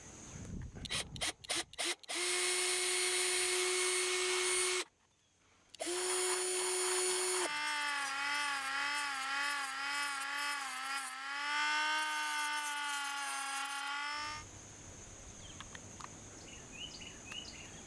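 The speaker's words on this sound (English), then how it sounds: "Using a regular drill and a Dremel tool with a cutoff wheel." A drill whirs in steady bursts, then a high-pitched Dremel cutoff wheel whines and wavers for several seconds before winding down, while fitting a quartz movement to an antique clock.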